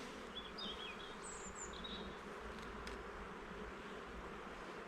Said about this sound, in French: ça fait du bien de voir de l'abeille